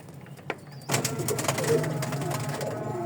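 Pigeons kept by a hobbyist fancier give soft cooing calls under steady background noise, with a brief sharper sound early on before the cooing continues fairly close.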